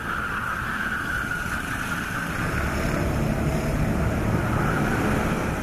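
Racing karts out on track during a six-hour endurance championship after a compulsory pit stop, a continuous engine drone and rush that holds steady throughout at moderate distance, with no voices.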